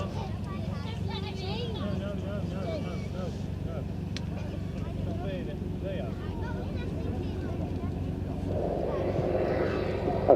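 An Airbus military transport aircraft making a slow flypast with its undercarriage down, a distant, steady propeller drone under a commentator's talk, rising slightly near the end.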